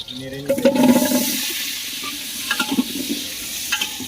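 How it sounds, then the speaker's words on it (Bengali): Ginger paste and chili being stirred in a pan on a home stove, a soft scraping and sizzling that swells and fades in short strokes, close and moderately loud, with faint kitchen clatter and no talk. "আদা বাটা আর লঙ্কা দিয়ে এখন নাড়ানাড়ি হচ্ছে"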